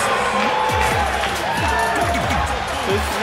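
A large arena crowd roars and cheers steadily for wrestler Keith Lee in WWE 2K20, a dense continuous wall of noise with a rhythmic low thumping pattern running beneath it.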